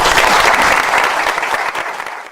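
Audience applause at a ribbon cutting ceremony, a dense steady wash of many hands clapping close and loud, holding strong throughout and thinning only slightly toward the end.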